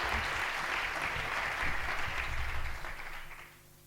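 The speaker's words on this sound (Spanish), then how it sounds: "le damos un fuerte aplauso" Warm applause from an audience at a sports management conference, a dense, steady wash of clapping that holds strongly before tapering off and fading out near the end.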